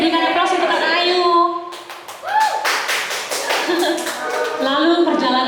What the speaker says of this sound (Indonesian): berikan aplaus untuk Kak Ayu